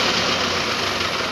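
Tractor engine idling up close, a loud, steady low rumble with continuous vibration and no pauses.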